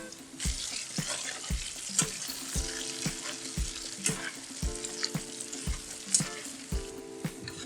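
Steak searing over a charcoal grill just after flipping, a steady close sizzle with regular soft knocks and faint tonal sounds running underneath.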